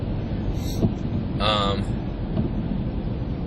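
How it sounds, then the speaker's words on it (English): Rain from a nor'easter heard from inside a moving car: a steady, dense wash of noise with a brief whining tone partway through, continuous and fairly loud. "And where I live, it's raining."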